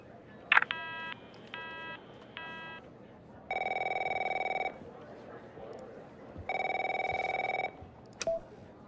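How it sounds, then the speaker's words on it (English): A telephone in the game The Operator rings in two sustained electronic bursts, each lasting about a second, with short beeping tones before them. Low background noise runs throughout. "My phone's ringing off the hook here."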